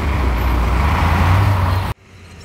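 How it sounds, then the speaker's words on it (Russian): Heavy construction trucks rumble past on a residential street not built for them, a loud, close, sustained engine roar that cuts off abruptly, leaving quieter ambient hum. "Грузовики один за одним"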